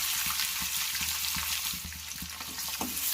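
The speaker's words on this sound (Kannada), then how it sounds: "ಇದನ್ನು ಚೆನ್ನಾಗಿ ಫ್ರೈ ಮಾಡ್ಕೊಳ್ಳೋಣ. ಈರುಳ್ಳಿ ಬ್ರೌನ್ ಆಗೋವರೆಗೂ ಫ್ರೈ ಮಾಡ್ಕೊಳ್ಳೋಣ." Finely chopped onion fries in a pan with curry leaves for tomato onion chutney, a continuous close sizzle broken by quick scraping stirs.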